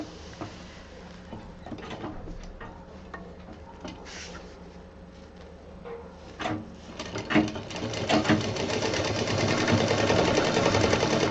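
A sewing machine stitches colourful piping onto a DIY expandable handbag, running in short bursts at first and then settling into a steady, louder continuous whir toward the end, with no talking.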